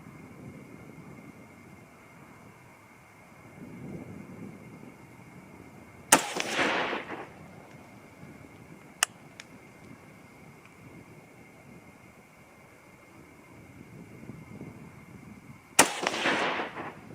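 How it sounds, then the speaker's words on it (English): Two rifle shots from a 6mm ARC firing 90 grain Game Changer bullets, each a sharp loud crack with a short rolling echo, spaced well apart over quiet outdoor background noise. "I'm just trying to give you a sampling of the shots"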